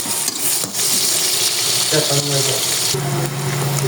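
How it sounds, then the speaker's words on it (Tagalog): Garlic and onion sauté in a pan for adobong labong, a bamboo shoot dish, making a loud continuous close sizzle with brief clatter, while a voice talks over it. "Unahin natin igisa yung bawang"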